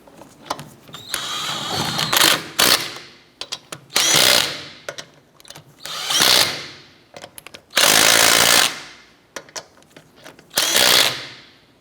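An impact wrench snugs down the lug nuts on an Acura TL wheel, a series of loud rattling bursts, about six, separated by short pauses and lighter clicks close by.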